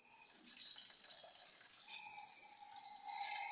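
Water runs steadily from an indoor tap in a continuous bright hiss, close and fairly loud, holding the same level from start to finish with no voices.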